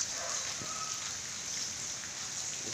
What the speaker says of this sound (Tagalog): Yung ambon, oh. Ambon pa ngayon.